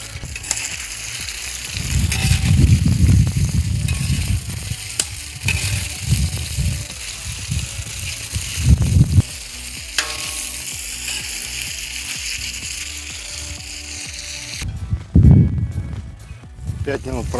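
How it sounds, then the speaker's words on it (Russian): Smoked meats fry in oil in a kazan over an open fire for solyanka, giving a steady sizzle with clinks and stirring sounds while a person talks over the cooking. "И отправляем наши копчености. Немного их обжарим."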